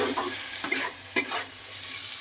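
Chicken sautéing in a pan with ground cumin, coriander and garam masala, given a few brief scraping stirs over a soft, low sizzle.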